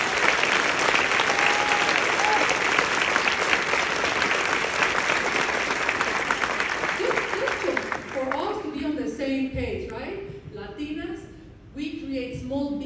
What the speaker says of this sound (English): let's give it an applause for our Latinas